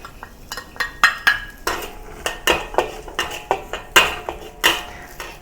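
A spatula scrapes and clinks steadily against a pan as dried shrimp stir-fry with garlic for taro rice, a quick run of close, bright strokes with no voices.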